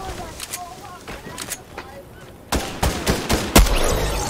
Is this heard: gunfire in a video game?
yes